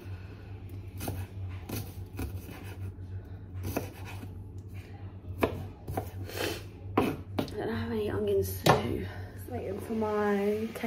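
A kitchen knife chops food on a board in sparse, crisp taps, several sharp cuts spaced irregularly, close and moderately quiet, with a steady low hum beneath and a clatter of dishes toward the end.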